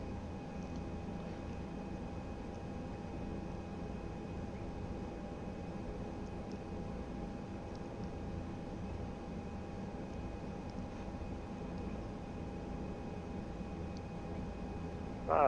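An ATR 72-600 turboprop in a flight simulator lines up on the runway at Madrid, its engines giving a steady, even drone with a faint tonal whine throughout, no talking and little change in level.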